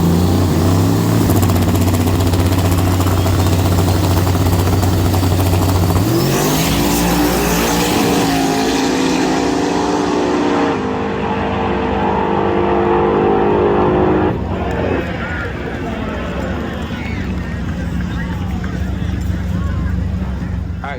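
A turbocharged drag race car makes its final quarter-mile pass, a loud, sustained engine roar that rises in pitch as it accelerates, then shifts and carries on at steady volume to the end, with talk mixed in.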